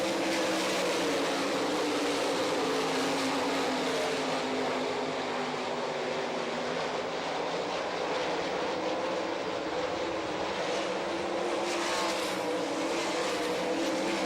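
Open 410 sprint cars race on a dirt track in a loud, continuous roar of several engines, the pack sweeping down the backstretch with slight swells in pitch and volume as the cars pass.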